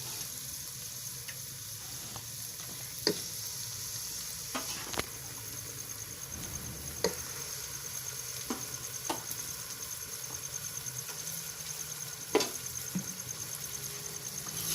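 Mustard greens (saag) go into spiced masala in a pan and are stir-fried, a faint steady sizzle with occasional sharp clicks and taps of a spoon against the pan.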